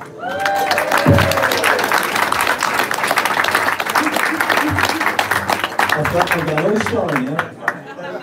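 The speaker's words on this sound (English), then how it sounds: "give him a round of applause" An indoor audience at a political question-and-answer meeting breaks into loud, sustained applause with dense clapping. Voices talk over the applause, and a few cheers are heard before the clapping fades.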